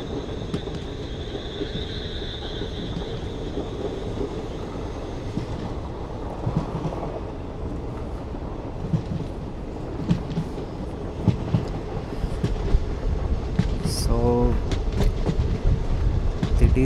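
Express train 16232 to Mysore rolling on rails, a loud steady rumble of wheels with clickety-clack rhythm building toward the end, plus a brief high screech.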